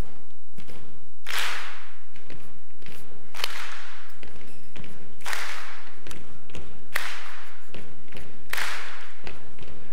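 A live audience at a web typography talk stomps and claps in the We Will Rock You pattern, two low thuds then a sharp clap, repeated steadily about five times with no talking.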